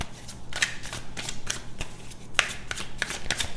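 Tarot cards being shuffled and pulled from the deck, a close rhythmic series of quick papery riffles and flicks with no voices.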